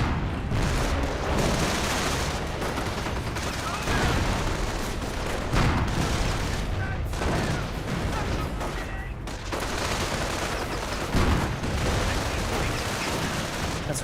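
Company of Heroes battle noise: sustained crackling rifle and machine gun fire mixed with thudding grenade blasts, dense and continuous at moderate level, with occasional sharper bangs standing out.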